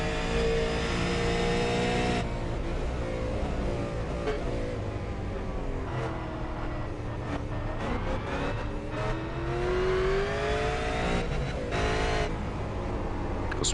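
V8 Supercar race car at Laguna Seca, engine roaring loud and near as it climbs and drops through gears, with brief gaps at shifts and out of corners, no voices over it.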